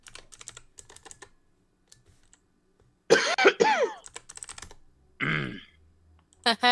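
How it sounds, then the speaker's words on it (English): Light keyboard typing clicks along quietly before one person breaks into several loud, close coughs and throat clearing in separate bursts. "You have my cough now."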